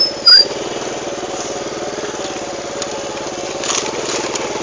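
Motorcycle ridden along a muddy road, a steady close engine drone with rapid rhythmic pulsing throughout, plus a brief sharp knock near the start.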